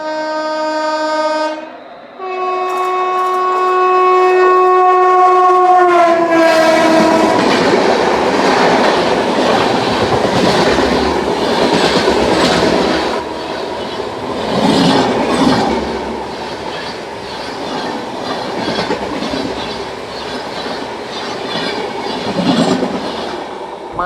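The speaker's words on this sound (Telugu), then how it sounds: "ఆపోజిట్ డైరెక్షన్లో ట్రైన్ వస్తుంది, అది కూడా డొరాంటో ఎక్స్ప్రెస్ అండి" Duronto Express train passing close by in the opposite direction near Guntur Junction, opening with a loud sustained horn blast, then a continuous roar of wheels and rattling carriages that stays loud throughout.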